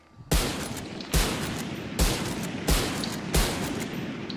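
Gunfire in a first-person shooter video game, five loud single shots spaced roughly a second apart, each with a sharp crack and a lingering reverberant tail.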